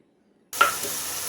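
Cumin, coriander and turmeric powder hit a hot pan of coconut-topped taro greens after silence, bursting into a sudden close sizzle that settles into a steady hiss.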